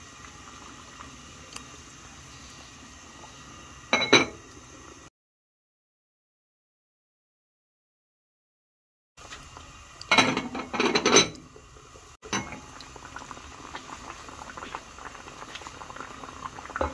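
A pot of broth with kelp, anchovies, pollock head and radish boils steadily, giving a continuous close bubbling patter with a few louder pops and bursts, broken by a stretch of total silence midway.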